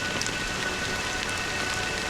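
Steady rain pours in a video game scene in Honkai: Star Rail, a dense, even patter of drops on surfaces throughout, with no voices over it.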